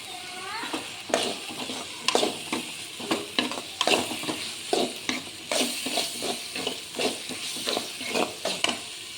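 A masala with chilli powder and turmeric for chicken biryani is stirred in a sizzling pan, with steady rhythmic scraping strokes over a continuous frying hiss, close up and without talk.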